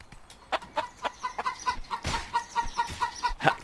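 Rapid, repeated clucking from a chicken in the Bear Simulator video game, a steady run of short, loud clucks with no voices over it.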